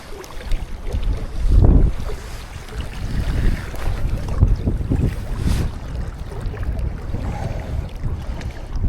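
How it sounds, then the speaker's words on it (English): Wind gusting beside the River Tyne on a salmon fishing beat, buffeting the microphone with low rumbling surges and a strong gust near the start, no talk. "I knew this bloody wind was going to pick up."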